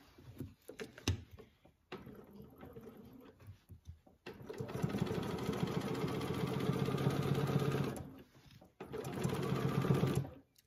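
A sewing machine stitching in the ditch while quilting an orange peel design with a ruler: short stitch bursts and handling clicks, then a sustained close whirring run, a brief pause and another run.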